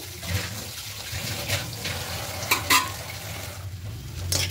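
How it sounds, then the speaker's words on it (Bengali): Potato filling for cheese paratha is stirred in a hot pan, giving a steady soft sizzle under scraping strokes of the spoon, with a couple of sharper clinks near the middle and no talking. "আলুটার সঙ্গে খুব ভালো করে এটাকে মিক্স করে নেব"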